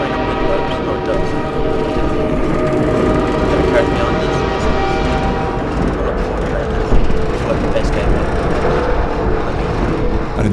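A train in the Half-Life 2 video game rolls along with a steady, loud mechanical rumble and clatter, sustained throughout with faint tonal hums above it.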